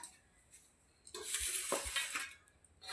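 Cooked rice is served onto plates with utensils, bringing a burst of scraping and metallic clinks in the middle, with quiet pauses before and after and no talking.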